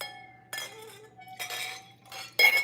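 A drinking glass gives a bright clink, followed by a few scattered taps and rattles of glass close by in a quiet room.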